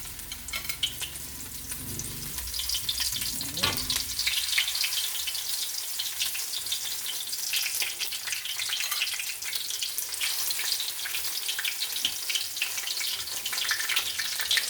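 Enoki mushrooms sizzle and crackle steadily as they deep-fry in hot oil, a continuous bright frying hiss with a brief stir or clatter early on.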